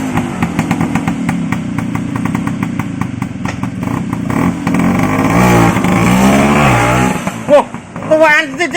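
A restored 1980s-based Vespa PX 150cc scooter in standard spec with original parts runs close by, its two-stroke engine droning and then revving up and down, with voices talking over it.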